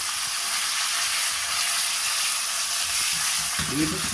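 Chicken hits smoking hot oil in a wok for restaurant-style chow mein, a loud, broad, steady sizzle and hiss with a sharper burst of crackling near the end, a voice faintly underneath.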